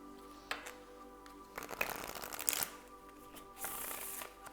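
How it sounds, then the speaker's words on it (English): Tarot cards shuffled messily in a loose flop shuffle, giving several close, papery riffling and slapping bursts of uneven length with short gaps between them. "That was kind of a flop shuffle."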